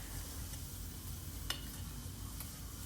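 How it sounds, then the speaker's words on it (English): Broccoli, mushrooms, garlic and ginger fry in a pan with a faint, steady sizzle, broken by a couple of light scraping stirs. "by now our broccoli and mushrooms are well fried along with the garlic and ginger"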